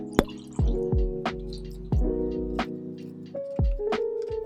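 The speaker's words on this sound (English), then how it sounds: "I'm gonna add a little bit of canola oil." Canola oil poured into banana bread batter makes a series of close, wet, gurgling drips and plops with ringing pitched tones, heard alone without talk.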